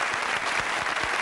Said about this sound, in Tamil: மிகப்பெரிய கைத்தட்டல் தான்.